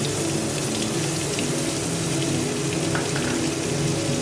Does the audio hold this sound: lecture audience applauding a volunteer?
no